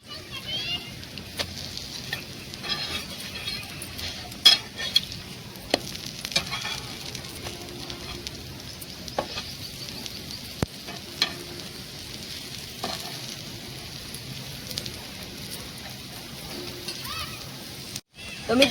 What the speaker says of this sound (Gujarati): આ ચમચમિયાને સરસ શેકી લઈશું